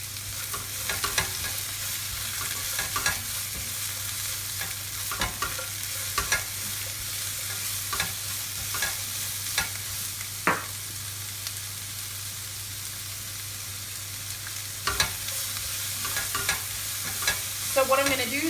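Peppers and onions frying in a pan, a soft, continuous sizzle with intermittent stirring clicks and scrapes, and a low steady hum underneath.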